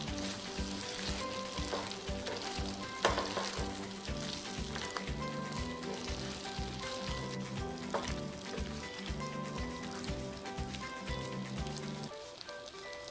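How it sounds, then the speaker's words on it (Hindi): Eggplant masala with peanut powder cooks and gets mixed in a pan, a quiet continuous frying sizzle running under background music throughout. "इसको हम एक बार मिक्स कर लेंगे।"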